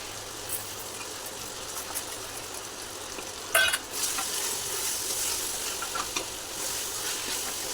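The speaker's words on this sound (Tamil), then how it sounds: "தக்காளி நல்லா வதங்கணும்" Tomatoes sautéing in a pan for coconut-milk biryani give a soft, steady sizzle, with a brief louder clatter of stirring midway and a faint low hum underneath.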